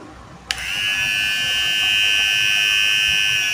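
After a click, an HTC AT-538 hair trimmer switches on and runs with a steady, loud, close electric buzz that continues to the end.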